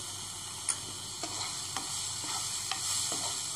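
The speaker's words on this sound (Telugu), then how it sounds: "ఇలా వేగుతున్నప్పుడే పసుపు, కారం, జీరా పౌడర్," Turmeric, chili and cumin powder frying in hot oil for paneer gravy, a soft steady sizzle broken by a few light taps of a stirring spoon against the pan, close and with no speech.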